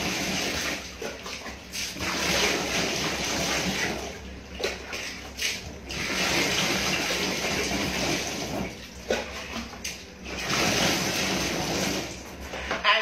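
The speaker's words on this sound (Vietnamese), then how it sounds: "bây giờ mình rửa mặt dùm cho em" Steady running water pours from a tap while a face is washed. The hiss stays fairly loud and continuous, with brief dips and splashes where hands break the stream.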